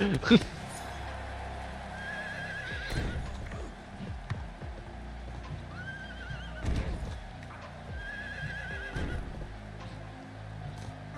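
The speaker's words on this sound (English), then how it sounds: "there's a horse here." In the AEW Fight Forever wrestling video game, a horse neighs among clip-clopping hooves and arena noise. The whinnies come in a few short bursts at a moderate level, with game sounds and commentary running underneath throughout.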